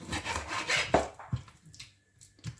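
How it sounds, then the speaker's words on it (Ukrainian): A knife cuts chicken thigh meat into pieces for homemade shawarma, making close scraping and rubbing strokes with a few soft knocks against the board. "Я одразу ріжу м'ясо на такі шматочки, щоб воно швидше замаринувалося."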